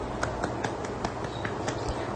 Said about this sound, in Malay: kawan-kawan, tepuk tangan untuk Haikal.